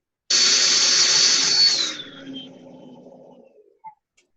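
A power drill runs loud and steady for about a second and a half, then winds down with a falling whine into a fading rumble, followed by a couple of faint clicks.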